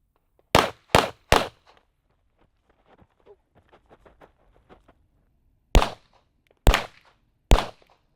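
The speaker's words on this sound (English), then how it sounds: "And then it's going to be 3 shots on target again." Loud, close gunshots from a pistol range drill: three sharp reports in quick succession, a stretch of quiet footsteps and shuffling, then three more evenly spaced shots.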